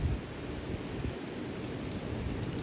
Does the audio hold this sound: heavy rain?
yes